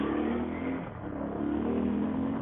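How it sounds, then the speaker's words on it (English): An Aprilia Shiver 900 V-twin motorcycle engine revs hard and close, a steady loud droning roar that dips briefly and then climbs back up. "it's a V-twin engine, so it's supposed to rev quite fast"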